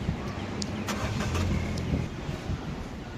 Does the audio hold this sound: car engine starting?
yes